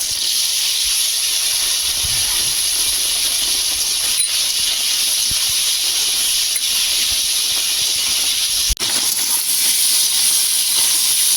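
Steady, loud sizzling hiss of hog plums frying in hot oil with chilli and nigella seeds, continuous throughout with a brief click near the end.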